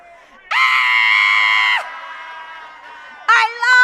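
A person lets out a long, loud, sustained scream lasting over a second. A quieter tail follows, then another brief high yell near the end.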